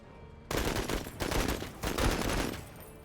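Bursts of rapid gunfire erupt in a tactical video game combat scene, several loud, dense volleys crackling back to back with brief gaps between them, no talking.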